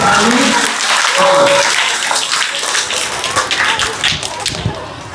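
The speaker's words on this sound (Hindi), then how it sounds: "अरे तालियां कम बज रही है" Audience clapping at a Republic Day school program, a dense, scattered patter of hands that thins toward the end, with a voice speaking over it.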